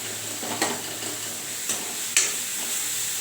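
Onions sautéing in a pan, a steady soft sizzle under occasional sharp scrapes of a spatula stirring, close and moderately quiet with no talking.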